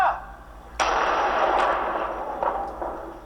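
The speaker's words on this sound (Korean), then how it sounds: "경찰은 인터넷에 소개된 폭탄 제조법에 따라 폭탄을 직접 만들어 그 위력을 실험해봤다" A homemade bomb built by police from an online recipe, using about a tenth of the real powder charge, goes off in a test with a sudden loud blast followed by a long rumbling decay.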